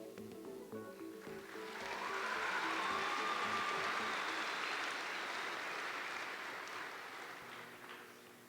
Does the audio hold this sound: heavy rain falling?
no